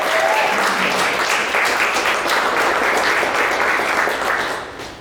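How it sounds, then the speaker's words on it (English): A crowd applauds at the launch of a musician's makerspace, a loud, sustained, even roar of clapping that holds steady and fades slightly at the very end. "let's give a round of applause"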